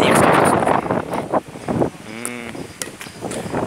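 Gusty wind buffets the microphone outdoors during a casual football game, with a heavy rumble at first that eases off. Players shout and talk over it throughout.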